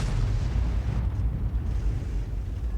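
An Object 261 self-propelled artillery piece in a video game fires a shell, heard as a deep, heavy boom with a rumbling tail that stays loud and dense throughout, with no voices.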